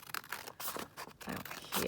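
Pink paper being trimmed for a junk journal booklet, with close crisp crinkling and tearing-like rustles in short irregular bursts across the clip.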